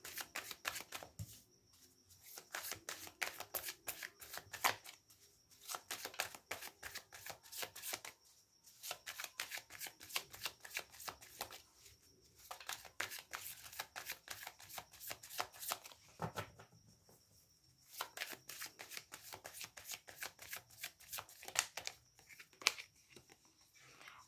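Tarot cards are shuffled over and over, a dense riffling flutter repeated in bursts with brief pauses between, soft and close, with no voices.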